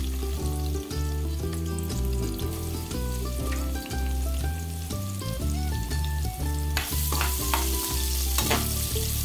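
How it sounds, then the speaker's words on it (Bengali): Chopped onion and green chili frying in soybean oil in a pan, a constant close sizzle with stirring scrapes, heard under loud background music. "এখন দিয়ে দিচ্ছি পেঁয়াজ কুচি, কাঁচামরিচ কুচি।"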